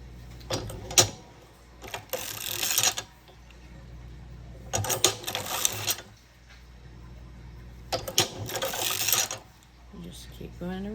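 A hand-cranked sock knitting machine turns round and round, giving repeated bursts of clattering, ratcheting gear noise in a regular cycle, close by, with a person talking softly between turns.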